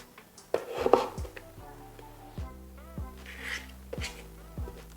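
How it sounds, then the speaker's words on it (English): A knife taps against a cutting board in a handful of soft, spaced chops while vegetables are cut into little batons, with faint kitchen clatter between the cuts. "Cut them into little batons like so."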